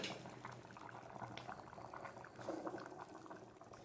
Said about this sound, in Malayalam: നമ്മളെ പുഴുക്ക് കിടന്ന് തിളക്കുന്നുണ്ടല്ലേ